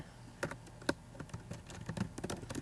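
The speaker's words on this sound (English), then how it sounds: "So you can just type in Central Park," Quick bursts of computer keyboard typing as a place name is entered, light clicky keystrokes in an uneven run, close but quiet, with no talk.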